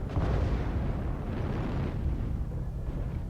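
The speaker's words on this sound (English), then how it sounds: "And see some autocannon shells coming in with my range" Autocannon shells striking in the mech combat game MechWarrior Online, a continuous heavy rumbling barrage of booming impacts with no pauses.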